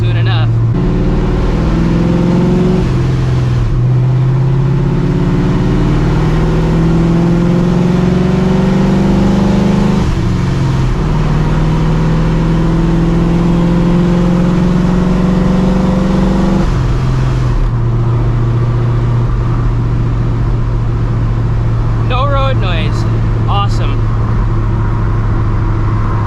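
A cammed, supercharged 1999 Ford Mustang on drag radials accelerates hard through several gears, its loud engine note climbing and dropping at each shift with a steady supercharger whine.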